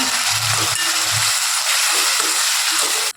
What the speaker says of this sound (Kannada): ಒಂದು 5 ನಿಮಿಷ ಚೆನ್ನಾಗಿ ಫ್ರೈ ಮಾಡ್ಕೋಬೇಕು ಇದು ಮಸಾಲ